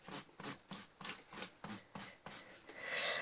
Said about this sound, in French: je vais d'abord nettoyer mes tampons